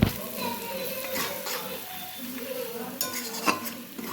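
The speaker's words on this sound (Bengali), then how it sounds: "তারপর সমস্ত গুঁড়ো মশলাগুলোকে ভালোভাবে মিশিয়ে নিতে হবে" Ground spices and Kashmiri chili powder are stirred in a pan while making mutton curry, with soft, steady scraping and clinking of a utensil against the pan and a faint background hum.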